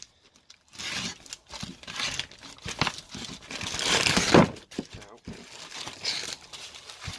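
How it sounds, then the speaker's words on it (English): Packaging around RB20DET engine parts being cut and torn open, with loud crinkling, crumpling and ripping in irregular bursts close by. "I'll put it down for a second so I can cut this one open."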